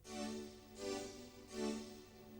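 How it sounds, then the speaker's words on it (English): Roland JV-90 synthesizer keyboard playing its syn vox tone: three sustained, choir-like synthetic voice chords swell and fade in turn, each rich in harmonics, with no talking. "Playing the keyboard now, you should just hear the syn vox sound like this."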